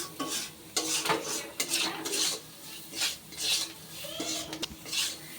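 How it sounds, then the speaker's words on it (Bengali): Dal with salt and turmeric is stirred in a pot, making a series of close scraping and clinking spoon strokes against metal, each swelling and fading in rhythm, with faint sizzling underneath and no talk. "লবণ হলুদ দিয়েও ডালটার সাথে ভালোভাবে মিশিয়ে দেবো।"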